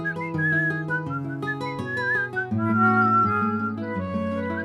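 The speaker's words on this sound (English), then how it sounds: "As soon as the babies heard the whistling" A clear whistled melody plays close up, wavering tune with sustained notes and a few ornamented trills, alone without talk.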